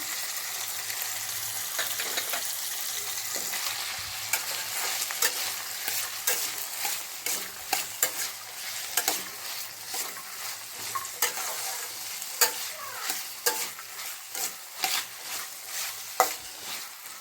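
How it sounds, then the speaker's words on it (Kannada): Grated coconut frying in a pan while being stirred for sorekayi sambar, a continuous hiss of sizzling broken by repeated scraping and tapping strokes of the spoon, close and steady throughout. "ಇವಾಗ ಇದಕ್ಕೆ ಕೊಬ್ಬರಿ ಹಾಕ್ಕೊತಾ ಇದ್ದೀನಿ"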